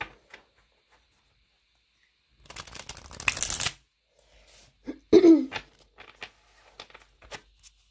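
A tarot deck is shuffled in a quiet room: a short burst of riffling card flutter, then scattered soft taps and a couple of sharper shuffles.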